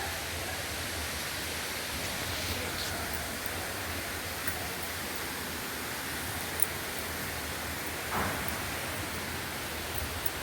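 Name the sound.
waterfall at Jalagamparai falls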